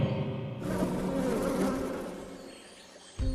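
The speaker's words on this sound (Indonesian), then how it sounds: "Si elemen madu kemudian melepaskan beberapa lebah untuk memberitahu Johim." Bees released in a jungle film scene, a dense, loud buzzing swarm that starts abruptly and holds steady before fading near the end, with no speech.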